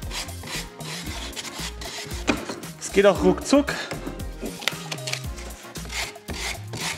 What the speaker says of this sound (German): Dann kann ich hier ganz gemütlich das schleifen.